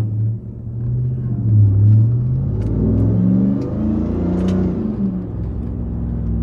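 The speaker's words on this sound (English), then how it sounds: "Let's see how good we can accelerate on out of here." A 2022 RAM 1500 TRX V8 truck pulls away, its deep engine rumble rising as it accelerates, heard from inside the cabin with the drone climbing through the gears.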